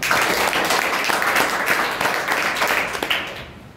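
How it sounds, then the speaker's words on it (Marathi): An audience at a speech and personality development workshop inauguration applauds with dense, sustained clapping that fills the hall, close and loud, tapering off toward the end. "त्यांचं सुद्धा पुनश्च एकदा टाळ्या वाजवून आपण अभिनंदन करूया"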